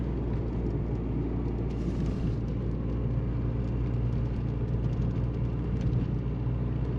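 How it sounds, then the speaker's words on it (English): A Mk2 Jetta, freshly fitted with new brakes, spark plugs, ignition parts and fuel filter, cruises along with a steady low engine and road rumble and constant drone from inside the cabin. "Not a bad day for a cruise in the Mark II."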